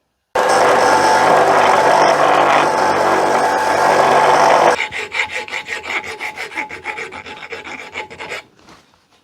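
Rubber on a homemade pressure bleeder for a Mk1 Consul/Zephyr/Zodiac gets trimmed with a loud, continuous rasping scrape that breaks into rapid rhythmic strokes before trailing off.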